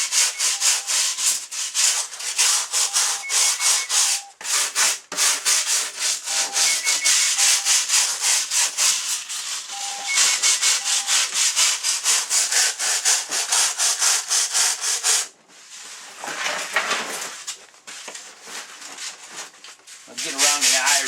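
Steady, close rubbing and scraping as wax is worked off the surface of an elk taxidermy form, dense and continuous for about fifteen seconds, then a brief pause before lighter, patchier scrubbing resumes.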